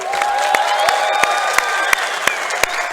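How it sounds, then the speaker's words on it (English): Arena crowd at a CS:GO LAN final in Belgrade's Combank Arena keeps up steady, dense applause with occasional sharp individual claps standing out, loud and continuous throughout. "Everybody, a round of applause, please."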